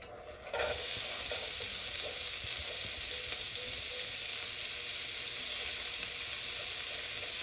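Onions and garlic hit a hot pan and burst into a loud, dense, continuous sizzle that holds steady after a brief quiet start, close and unbroken.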